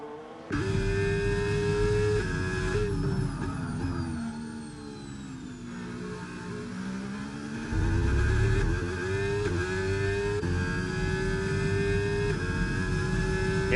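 A Ferrari Formula 1 car engine screams in an F1 racing game during a league race in Austria, holding a steady, loud, high-pitched drone with shifting pitch and a surge near the middle as the car pushes to overtake.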